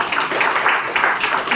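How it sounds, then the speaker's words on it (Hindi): Audience clapping at a spiritual gathering, a dense, steady patter of many hands that keeps going at an even level, with faint voices mixed in underneath. "आपकी खुशी की ताली बजाओ"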